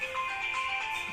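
A phone's ringtone plays steadily at moderate volume, a sustained electronic melody with bright tonal notes, alone without voices.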